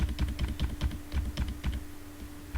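Steady close keyboard typing, a rhythmic run of clacking keystrokes with a low constant hum underneath, no one talking.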